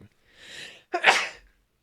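A single loud sneeze close by, a breathy inhale followed by a sharp burst, then silence.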